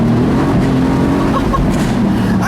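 A 2018 Mercedes-AMG GT C Roadster accelerates hard, its engine a loud, close, continuous roar that holds at full strength without a pause.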